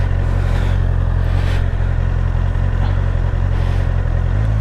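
A Honda CBR650R motorcycle with E-clutch idles and pulls away in first gear, a steady low engine hum rising slightly, close by, with a brief spoken word near the start.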